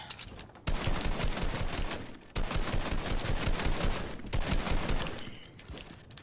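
Rapid shotgun fire in a Fortnite match: long dense bursts of overlapping gunshots, broken by a short pause before a new barrage, loud and close with no talking.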